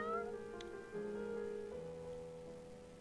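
A cat in the video game Faust Alptraum meows, a clear drawn-out call over quiet tonal background sound.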